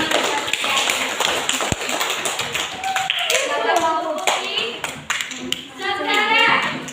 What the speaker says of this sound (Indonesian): mari kita beri tepuk tangan kepada Putri yang tadi mengatakan.